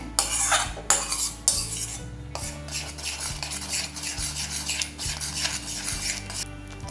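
Baby onion sabji being stirred in a pan as it comes to a boil, with repeated scraping and clinking of a utensil against the metal over a soft simmering sizzle, close and continuous.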